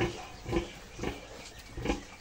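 Pigs, including a sow nursing piglets on a farm, give faint repeated grunts and snorts in a rough rhythm at moderate distance, with no talk over them.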